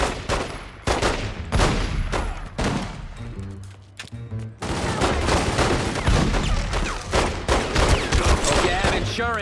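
Pistol fire in The Godfather II video game, a rapid string of sharp gunshots in bursts with brief pauses, loud and close, mixed with game sounds and a voice under the shots.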